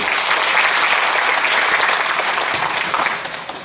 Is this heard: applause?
yes